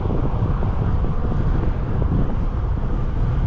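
Strong, violent wind roars outdoors as a dense, continuous, loud rush that buffets the microphone throughout.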